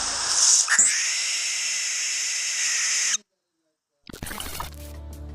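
A barn owl gives one long, harsh, hissing screech that lasts about three seconds, loud and close. It breaks off into silence, and then a different burst of sound starts.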